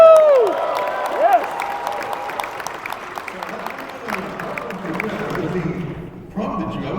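An audience claps and cheers in a sustained burst of applause with a few whoops, mixed with overlapping voices and a brief whistle-like tone at the start, fading toward the end.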